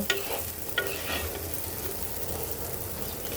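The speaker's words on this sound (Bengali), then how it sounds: "হলুদ আর ধনিয়াটা তো এখন আমি তেলের মধ্যে দু এক মিনিট ভেজে নেবো" Turmeric and coriander frying in hot oil make a soft, steady sizzle with a couple of light utensil clinks near the start, quiet and without speech.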